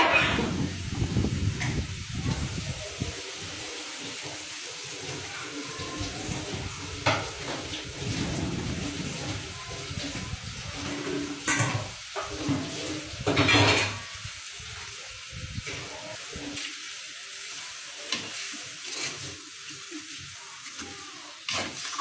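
A spoon stirring beef curry in a cooking pot on a home stove, with intermittent scraping and clinks against the pot and soft sizzling between strokes, close and moderately quiet.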